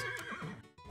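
A horse whinnies in a loud, drawn-out neigh from the video game Super Auto Pets, with a brief snort or hoof-like thump near the end.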